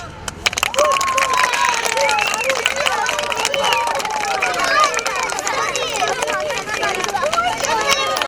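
A crowd of schoolchildren bursts into sustained applause for a new football field, dense clapping mixed with cheering and excited voices, loud and close throughout.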